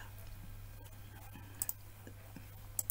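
A computer mouse gives a few sharp, close clicks, two quick double clicks spaced about a second apart, over a low steady hum in a quiet room.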